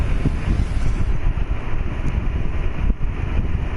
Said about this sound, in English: Sorry about the noise. I got the air conditioner on.